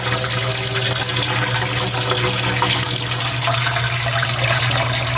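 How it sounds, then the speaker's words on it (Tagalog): Water running steadily from a tap into a cooking pot while making noodles with moringa and sweet potato leaves: a loud, continuous, close splashing stream with a low steady tone and no talk. "Lagyan ka na ulit ng tubig."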